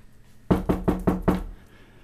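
Police knock on a front door: five firm, evenly spaced raps come in quick succession, close and clear against a quiet background.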